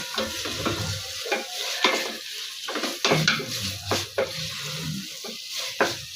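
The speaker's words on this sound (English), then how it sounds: "So you will just stir the meat well enough" Meat is stirred as it fries in a pot for pilau, with repeated rhythmic spoon scrapes and clanks against the metal over a close, crackling sizzle and no speech.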